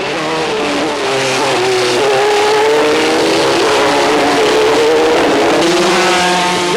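Formula 3 race car engine screaming loudly on the Dijon circuit in the 1988 French championship, a continuous high-revving roar with shifting pitch as cars pass close by, no voices.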